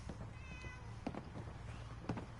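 A cat meows inside the Fallout 4 video game, with a few short, faint meows over a steady low game ambience.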